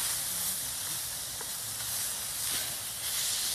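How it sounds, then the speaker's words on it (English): A camping gas stove burner hissing while burgers cook at an outdoor camp, giving a steady, close, continuous roar with faint sizzling throughout. "Turn the gas down a bit. I'm burning my burgers."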